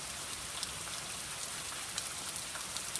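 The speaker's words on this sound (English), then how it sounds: "As you can see and hear, it is still very much raining" Steady rain falls on a minimalist home's surroundings in December, a dense, even patter with scattered sharper drops, constant and moderately loud throughout with no voices.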